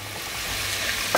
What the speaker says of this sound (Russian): Лук и чеснок и картофель прожариваем все вместе буквально 3-4 минуты.